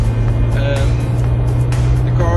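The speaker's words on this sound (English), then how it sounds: "we're in the Mitsubishi Evo 10, Nürburgring Nordschleife." A Mitsubishi Evo 10 with Öhlins road and track suspension drives the Nürburgring Nordschleife, its engine a loud, steady, close drone that holds throughout without a break.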